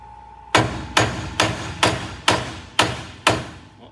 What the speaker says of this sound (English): Give it a little bang bang.